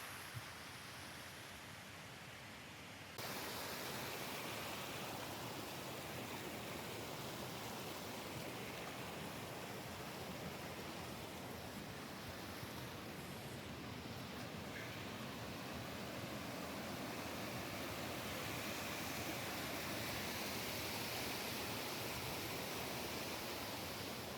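A small waterfall in Switzerland pours in a constant, broad rushing roar, steady and close with no pauses, the water noise filling everything and no voices heard.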